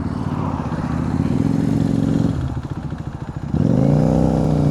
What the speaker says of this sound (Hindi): ऑन करते हैं बाइक को।